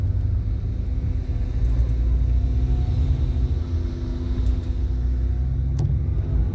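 A Sempati Star bus drives onto the Pekanbaru toll road at night. A steady, loud engine and road rumble fills the cabin, with faint rattles now and then.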